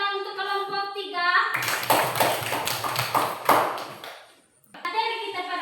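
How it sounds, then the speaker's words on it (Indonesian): Applause for a group of pupils in a primary school classroom, a dense burst of many small hands clapping for about three seconds between stretches of a teacher's voice. "Tepuk tangan untuk kelompok 3."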